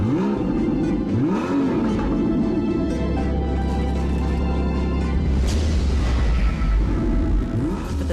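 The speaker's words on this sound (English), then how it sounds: "the intoxicating song of the Boxster 6 just behind your ears" A 2012 Porsche Boxster S's mid-mounted six-cylinder engine sings close by, rising and falling through revs with a steady low rumble underneath and a sharp surge partway through, with no talk.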